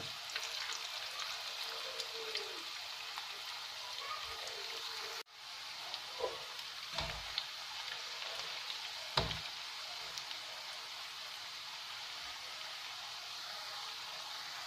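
Cauliflower florets deep frying in hot oil for gobi Manchurian, a steady dense sizzle with a few soft knocks and clinks of a utensil, briefly dipping before resuming.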